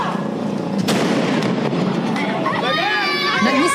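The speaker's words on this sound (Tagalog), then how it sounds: "Kaliwat kanang paputok ang sinindihan nila sa kalsada para salubungin ang Pasko." Firecrackers set off in a Manila street in Tondo to welcome Christmas, sharp pops and crackling bursts amid crowd noise and shouting voices, with a reporter's voice over the din.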